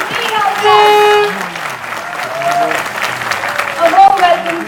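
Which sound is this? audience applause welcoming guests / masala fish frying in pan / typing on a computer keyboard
audience applause welcoming guests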